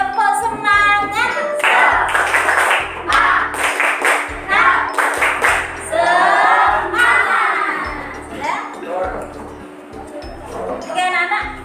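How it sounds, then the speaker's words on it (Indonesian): Schoolchildren in a classroom clap together in a patterned, rhythmic chant, with sharp bursts of hand claps falling in quick groups and children's voices chanting loudly alongside them throughout. "Tepuk semangat."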